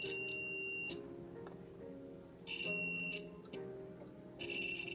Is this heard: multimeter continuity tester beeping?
yes